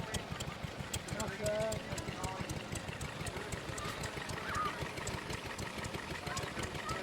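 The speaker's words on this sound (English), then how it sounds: "And what is the stationary engine that's powering it?" An old Ruston and Hornsby stationary engine chugs at a steady, rapid beat at a show, with mechanical clatter and voices talking over it.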